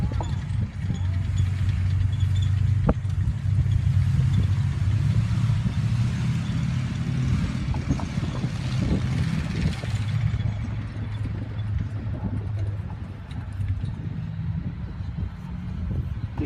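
Historic military vehicles, including a Kettenkrad half-track motorcycle, rumble into position for a battle scenario at TankFest, with steady low engine drone and idling close by, some clanks and revving, and occasional voices in the background.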